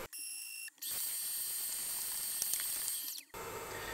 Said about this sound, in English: let's send the gantry back